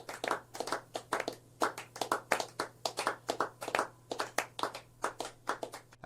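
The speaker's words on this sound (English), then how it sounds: "I don't know who that was clapping, but it wasn't me." Steady, close hand clapping by one person at a fairly quick, even rhythm, each clap crisp and distinct, continuing without pause.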